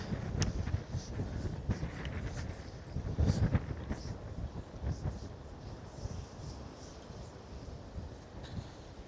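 Steady wind buffets the microphone on a bike ride through Ponta Delgada, São Miguel, Azores, on a sunny day. It is a constant low roar with gusty bumps and faint road noise under it.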